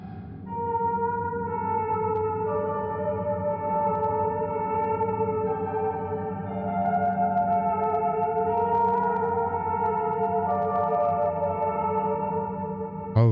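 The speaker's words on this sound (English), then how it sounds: "Sayaka and Ruka at piano" A slow piano melody plays in the survival horror game Fatal Frame: Mask of the Lunar Eclipse, sustained reverberant notes shifting pitch steadily over a low ambient drone, with no voices.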